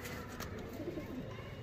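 A pigeon gives a brief, faint coo against a soft outdoor background, with no talking.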